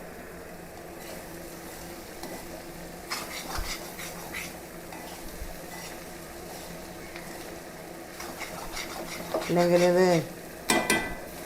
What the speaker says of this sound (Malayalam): നമുക്കൊന്ന് ഇളക്കി കൊടുക്കാം കേട്ടോ.